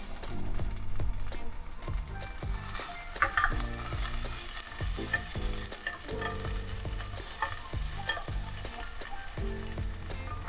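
Garlic and onion fry in oil in a pot for a one-pot chorizo pasta, a loud, steady sizzle punctuated by rhythmic stirring scrapes and occasional clicks, with no voices.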